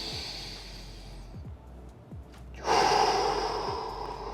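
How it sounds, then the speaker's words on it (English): A deep breath during a bench thoracic-spine mobility stretch, a quieter airy draw that swells into a strong, louder exhale midway, close to the microphone over low background hiss and faint knocks. "inhale,"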